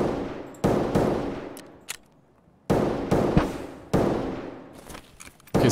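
Gunfire in the video game Escape from Tarkov, loud close bursts of rapid shots in several separate volleys with sharp onsets and ringing decay, alone without talk.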